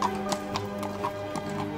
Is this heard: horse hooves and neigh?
yes